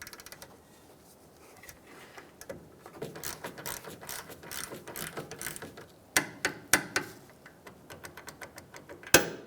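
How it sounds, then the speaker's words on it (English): A torque wrench ratchets as the top link of the lower control arm on a 2007-2015 Mazda CX-9 is tightened to spec, with quick clicking bursts building into sharper, louder clicks near the end. "now our top link will get torqued down to 35 foot-pounds"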